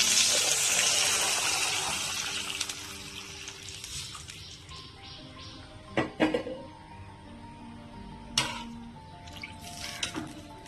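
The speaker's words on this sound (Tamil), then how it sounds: "நான் நாலு டம்ளர் தண்ணி எடுத்து வச்சுருக்கிறேன் இரநூறு எம்எல் டம்ளரில் அதை வந்து இதோட சேர்த்துக்கலாம்" About four 200 ml tumblers of water pour into a pan for semiya upma in a steady, loud gush that fades into trickles and a few clanks of the vessel, heard up close without speech.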